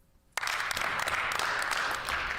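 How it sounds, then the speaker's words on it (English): Applause breaks out abruptly after a brief quiet moment, a dense, steady wash of many hands clapping at close range, sustained and loud to the end with no voices over it. "Big claps, dude. Big claps."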